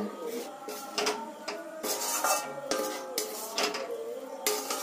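Fried, crushed gram-flour boondi for homemade motichur laddu is stirred into sugar syrup in a pan, giving repeated clinks and scrapes of a utensil against the pan in an irregular rhythm, close up and moderately quiet.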